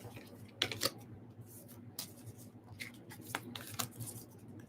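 Tarot cards are shuffled quietly up close, with a few sharp riffling snaps and soft papery slides scattered over a low background hum, no talking.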